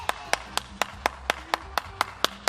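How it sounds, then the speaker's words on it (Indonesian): Single pair of hands clapping in a steady, even rhythm, about ten sharp claps close to the microphone at a children's online church program, with a faint background tone between claps. "Oke, tepuk tangan yang meriah untuk videonya."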